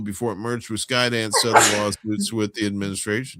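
A single loud sneeze bursts out in the middle of a man's steady newsreader-style talking, sharp and close, and the speech carries on right after it.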